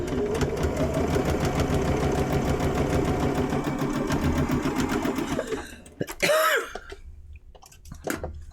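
A sewing machine stitches small quilt block pieces held tight under the needle, running steadily and loud for about six seconds before stopping, followed by a few brief handling clicks and thread sounds.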